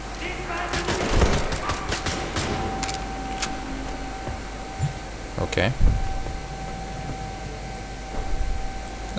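Muted, suppressed handgun shots pop in Wolfenstein: The New Order, spaced irregularly among game ambience and mechanical noises, while someone talks over much of the action.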